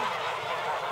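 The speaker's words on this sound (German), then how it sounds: "Gute Nacht, liebe Gänse." A flock of domestic geese on a Rhineland farm, honking in a dense continuous chorus at close range, with no talk over the calls.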